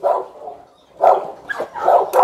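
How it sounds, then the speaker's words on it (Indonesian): A Boerboel dog barks in several loud, close bursts, three or four harsh barks spaced across a couple of seconds with short gaps between. "Dia nggak mau lihat si itu gonggong terus."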